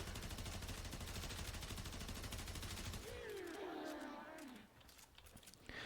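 Tiberon Prime assault rifle in Warframe firing full-auto, a dense, loud stream of rapid shots lasting about three seconds, then fading into a quieter tail of game sounds.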